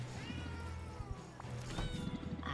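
A cat meows in the video game Potionomics, a few drawn-out tonal cries over a constant low game music bed, moderately close and without speech.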